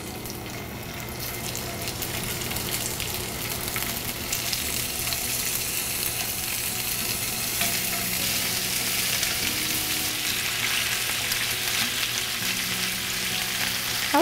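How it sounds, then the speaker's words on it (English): Fish sears in a hot pan for a Vietnamese canh chua, giving a steady, close sizzle that swells slightly and carries on without pause, with no talking. "So I'll put it in the pan. I'll use the same pan. I'll just sear it and then take it out"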